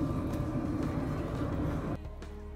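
Low rumbling hum from inside a tram in Grenoble, steady and droning, then the noise drops abruptly near the end as the motor quiets.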